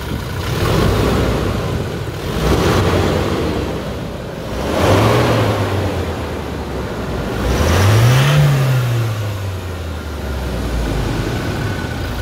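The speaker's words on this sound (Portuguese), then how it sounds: "essas turradas que esses motores a diesel dão" A close, heavy diesel engine of a 2017/18 Toyota Hilux pickup idles with a rough rumble and revs twice, its pitch swelling up and falling back each time.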